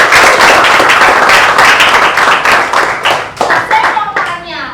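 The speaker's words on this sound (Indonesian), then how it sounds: "Beri aplaus untuk kalian." A class of children claps hands together in lively, rapid applause, loud and close, with the clapping thinning into scattered claps toward the end while young voices chatter underneath.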